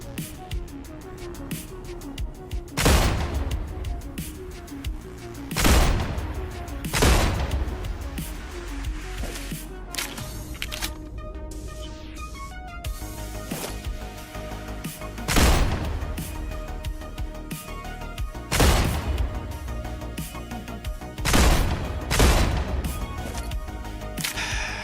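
Pistol shots in a hide-and-seek video game fire at uneven intervals, each one a sharp, loud, broadband crack standing out over a quieter bed of game ambience, with about eight shots spread across the stretch.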